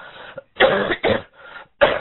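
Several harsh, close coughs in quick succession, some bursts longer and raspy, separated by brief pauses.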